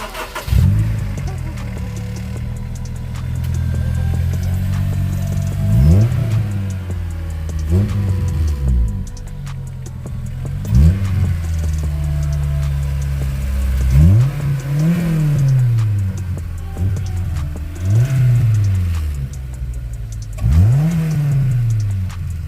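A Honda S2000 engine cranks and starts, then revs repeatedly in loud, rising and falling bursts at roughly even intervals over a rumbling idle, heard up close.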